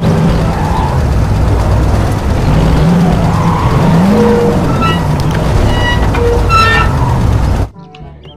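A McQueen toy race car's engine whine and skidding sound effects, loud and continuous with rising and falling tones and a few squealing accents, cutting off abruptly near the end.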